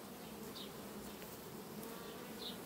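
Honey bee colony in a hive, a dense steady buzzing drone close by, with individual bees whirring past now and then, continuous and fairly faint.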